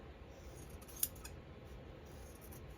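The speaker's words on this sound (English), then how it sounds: "Cut off a piece of fabric here." Scissors cutting a piece of green fabric give a faint single sharp snip near the middle over a quiet, steady background hiss, with no voices.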